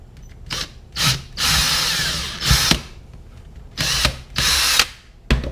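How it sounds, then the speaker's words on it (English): A power drill bores a hole through a hat to fit a GoPro mount, several close, loud bursts of whirring, with short pauses and stops between them. "So we've got one hole drilled."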